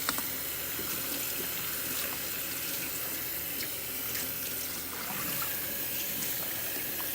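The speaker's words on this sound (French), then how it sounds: "on doit prendre nos carottes et les laver 2 fois dans l'eau courante" Carrots are washed under a running kitchen tap. A steady, fairly quiet stream of water runs into a sink the whole time, with small splashes and clatters as the carrots are handled, and no one talks.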